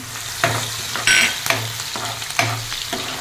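Green chili and garlic paste frying in a hot pan, with a steady low sizzle broken by several louder bursts as the paste is stirred and hits the oil, close and with no voices.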